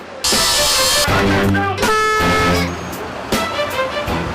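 Busy city street traffic with cars, buses and trucks: a loud, close blast of a truck air horn followed by overlapping car horn honks over a steady rumble of engines.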